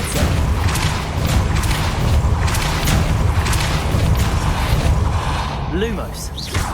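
A Depulso spell cast in Hogwarts Legacy, heard as loud booming impacts and crashes repeating over several seconds amid dense game noise, with a few brief tonal effects near the end.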